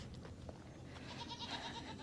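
A goat in a farmyard gives a short, wavering bleat at middling distance, over faint background noise and with no talk.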